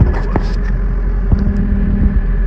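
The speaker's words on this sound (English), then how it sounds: "Nice tractor." A 6R 185 tractor engine on a farm, heard as a close, steady low diesel rumble with a few short knocks and clatters.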